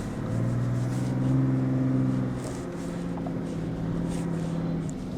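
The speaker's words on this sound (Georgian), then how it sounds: "პატარა ჯიმნი როგორ გაივლის ესეთ უსწორმასწორო ზედაპირებს." A small Suzuki Jimny crawls over uneven, rough terrain, its engine holding a steady, close, droning hum with slight rises and dips in load throughout.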